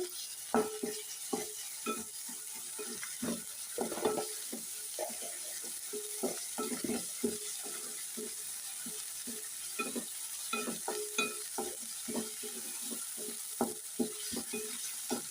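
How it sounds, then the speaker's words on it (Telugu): Onions fry in a pan with a spoonful of ginger-garlic paste for an egg fry, producing a gentle sizzle under repeated close, irregular scrapes and clinks of a spatula against the pan. "మనకి ఇప్పుడు ఉల్లిపాయలు అయితే కొంచెం వేగాయి ఫ్రెండ్స్ దీనిలో ఒక స్పూను అల్లం వెల్లుల్లి పేస్ట్ వేసుకుందామండి"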